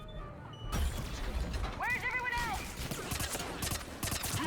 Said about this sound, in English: I realize there's a lot of gunfire, but it's mostly meant to prop up the dialogue, the script